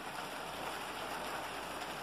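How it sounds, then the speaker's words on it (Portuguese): Rain falls steadily outside a house on a rainy day, a soft, even hiss of drops on surfaces at low volume, continuous and without voices. "E a chuva não para."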